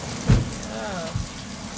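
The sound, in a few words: rain falling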